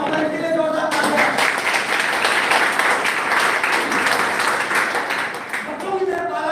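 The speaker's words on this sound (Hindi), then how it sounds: "इसके लिए जोरदार तालियां।" Loud audience applause at a Hindi-language motivational talk, a dense, steady wash of clapping that holds for several seconds, with a voice speaking over it at the start and end.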